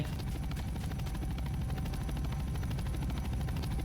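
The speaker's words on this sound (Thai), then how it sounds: "เฮ้ย เฮลิคอปเตอร์เฮลิคอปเตอร์ที่ไหน นั่นไง" A helicopter arrives in a video game on an island, its rotor a loud, steady, rapid chopping drone that fills the short stretch without talk.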